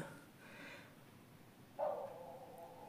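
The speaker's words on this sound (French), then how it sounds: "vous entendez encore ma chienne" A female dog barking indoors, with a couple of faint, distant barks, the second a slightly stronger yelp, heard over a quiet room background.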